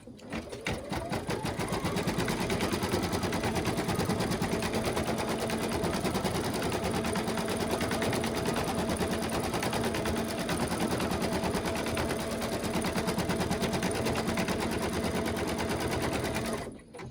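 An embroidery machine stitches a placement guide for a large Mylar butterfly, its rapid needle hammering steady and loud for the whole stretch without pause.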